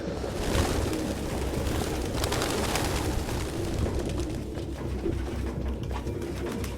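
Pigeons coo steadily in a video game scene from Detroit: Become Human, a close, continuous murmur of soft low cooing and fluttering with no talking over it.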